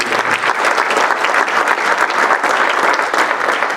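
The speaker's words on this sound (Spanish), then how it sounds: "Dale este fuerte aplauso al Señor por su amor y su misericordia." A church congregation at a Spanish-language Catholic service breaks into strong, steady applause, loud and continuous throughout with no talk over it.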